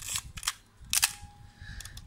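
An FM film camera's shutter fires at a medium speed setting, giving a few sharp, close mechanical clicks spaced apart in a quiet room, with no speech.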